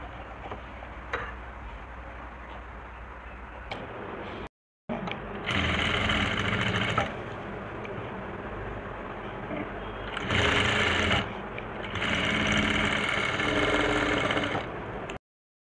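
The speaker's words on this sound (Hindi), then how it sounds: "ये मैंने सिलाई लगा ली है और ऊपर से मैंने ये टॉप सिलाई लगाई है।" A sewing machine stitches a V-neck collar in short runs: a close, fast mechanical whirr with ticking, broken by a brief pause and swelling louder in a couple of bursts, with no speech.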